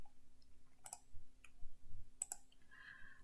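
Mouse clicks in 3D rendering software while switching the previewed window: a couple of sharp, quiet clicks, some doubled, spaced a second or so apart over a low steady hum.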